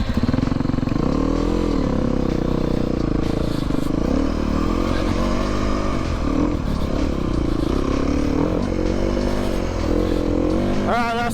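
A dirt bike engine revs and surges while riding off-road, loud and continuous with rising and falling pitch, mixed with scraping and clatter of the ride and some voices.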